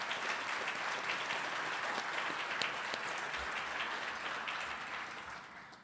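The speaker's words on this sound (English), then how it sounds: "Please join me in a warm round of applause for all of them." Audience at a City Club public forum applauds in a steady, full round of clapping that holds loud and even, then slowly fades toward the end.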